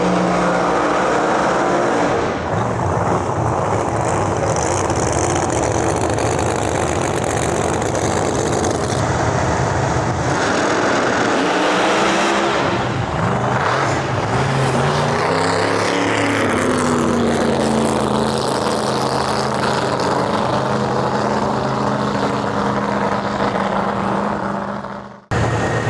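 Loud, sustained roar of supercharged pro mod drag race cars at the Snowbird Outlaw Nationals, engines droning and rising in pitch as they run down the track, then cutting off abruptly.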